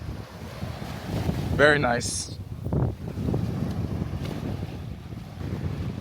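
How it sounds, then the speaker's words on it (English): Ocean waves wash softly onto a white-sand beach in Aruba, a quiet steady surf hiss under wind noise, with a person briefly speaking partway through. "Take in the ocean waves. We're gonna let you listen to it for a sec."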